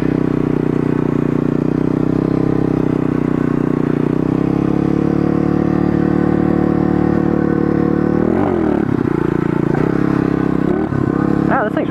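A pit bike motorcycle engine drones steadily and loudly while being ridden, with a sustained buzzing tone that dips and wavers briefly toward the end as the throttle shifts.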